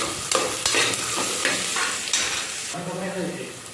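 Onions sautéing in oil for biryani sizzle steadily while a spatula scrapes and stirs the pan in repeated strokes, close and fairly loud.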